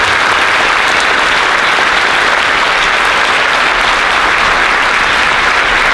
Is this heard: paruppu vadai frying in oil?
no